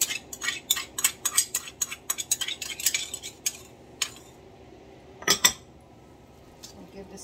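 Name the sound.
stirring lime sour with salt and hot pepper sauce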